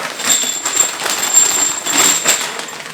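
A metal box full of 12 gram CO2 cartridges shaken continuously, giving a dense, bright metallic rattle and jingle that stays loud and close for several seconds.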